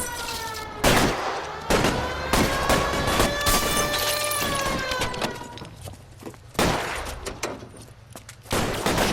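Shotguns fire in an L.A. Noire shootout, several loud broadband blasts spaced a second or two apart over a steady game soundscape with a faint tonal backdrop.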